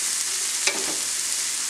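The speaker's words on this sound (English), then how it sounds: "And add in your mushrooms." Mushrooms and shallot sauté in a pan for a creamy mushroom sauce, giving a steady, close sizzle throughout with one brief stir or clatter near the middle and no talking.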